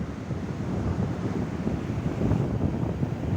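Wind buffets a microphone on the Porbandar seashore, a steady low rumbling roar with a faint wash of surf beneath it, continuous and loud throughout with no talking.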